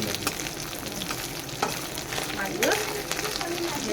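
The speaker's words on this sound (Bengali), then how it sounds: "তেলটা আমার গরম হয়ে গেছে মাছগুলো ভেজে নেবো" Small native fish (chunopunti) frying in hot oil make a steady, close crackling sizzle with brief stirring scrapes throughout, and faint talk underneath.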